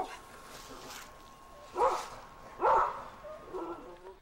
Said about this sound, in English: the dogs were a barking